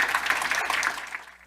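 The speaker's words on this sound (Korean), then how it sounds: "큰 박수 부탁드리겠습니다" Audience applause at an AWS Summit Seoul tech talk, a dense, steady patter of many hands clapping throughout, fairly close and even, tapering slightly toward the end with no voices over it.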